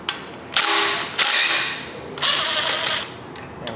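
A ratcheting wrench backs off a 9/16 bolt while a Ford 302 small block alternator is removed, giving three loud close clicking bursts with brief pauses between them.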